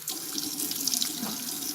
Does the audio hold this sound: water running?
yes